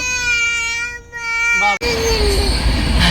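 Train passing during a temple festival in Kerala, a loud rumbling rush that fills the second half after a sharp break, preceded by a child's sustained wailing cry.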